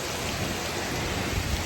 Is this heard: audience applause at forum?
no